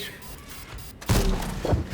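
A tank gun firing in the video game World of Tanks, one heavy booming shot landing partway through, followed by a second thud, with a player's voice talking over the game sounds.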